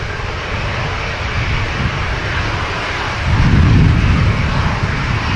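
A Virgin Atlantic Airbus A350 jet on the runway at Manchester Airport, a steady broad engine roar with a low rumble swelling louder toward the end, continuous and fairly near with no talk.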